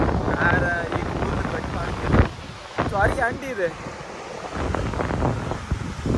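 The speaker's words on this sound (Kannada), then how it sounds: "ಒಳ್ಳೆ ಗಾಳಿ" Strong wind blowing across a sea coast at a fishing spot, a steady rushing roar with gusty buffeting against the microphone, heard under a person talking.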